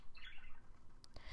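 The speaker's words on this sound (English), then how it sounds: "Sorry about my birds are talking over there." Pet birds give a quick faint chirp, then a couple of brief sharp squeaks near the end, distant and soft over low room noise.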